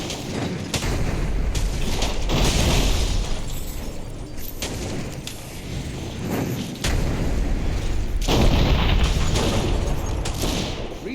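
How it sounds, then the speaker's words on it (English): Heavy cannon fire in the video game Dungeon Siege III, with dense, overlapping booms and blasts rolling on continuously, loud and near, with a brief lull midway before the barrage builds again. "The cannons must be agitating them."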